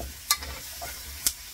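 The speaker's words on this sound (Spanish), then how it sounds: "Vamos a menear." A pot of chambre is stirred after oregano goes in, a faint low simmer marked by two sharp clicks of a spoon against the pot.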